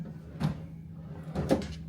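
A drawer in a Celebrity Beyond Infinite Veranda cruise ship cabin opens and closes close by: two short wooden knocking slides about a second apart, over a steady low cabin hum, with no talking.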